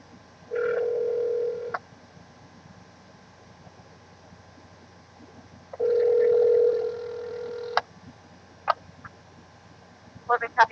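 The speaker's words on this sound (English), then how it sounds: "Let's dial 911 and see what we get." An iPhone Jabber phone client dials 911, giving steady tone bursts and a few short keypad beeps, clear and close, in a quiet room.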